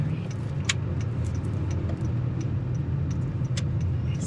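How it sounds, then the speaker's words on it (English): Car interior during a beginner driving lesson, a steady low engine and road rumble as the car turns and accelerates from an intersection, with faint small clicks and rattles over the drone. "Turn and accelerate."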